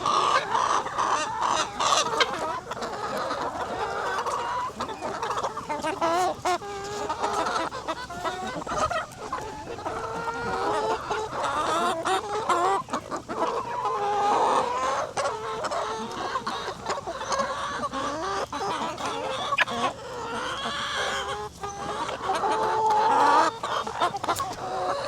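Pet chickens in the Philippines cluck and chatter nearby while pecking at jackfruit, a busy stream of overlapping calls and short squawks with no talk.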